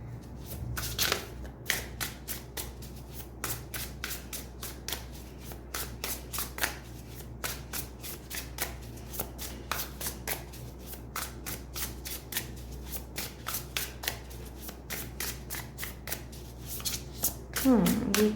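Tarot cards shuffled by hand in quick rhythmic riffles and flicks throughout, close and fairly soft, ending with a brief handling rustle; a person talks at points.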